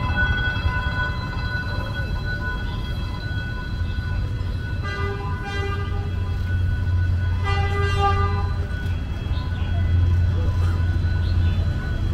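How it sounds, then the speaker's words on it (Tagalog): A train passes along a Hanoi street, heard as a steady rumble with two short horn toots, amid street ambience at moderate distance. "Ayan, train."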